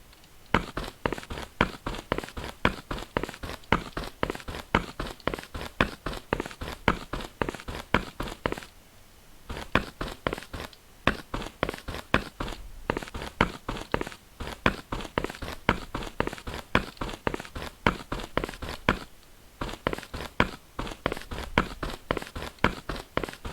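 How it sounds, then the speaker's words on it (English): Footsteps in a Unity battle royale game, each step slightly varied in pitch, a steady rapid walking rhythm of crisp repeated thuds with two short pauses, moderately quiet and alone. "And it'll sound different each time we take a footstep."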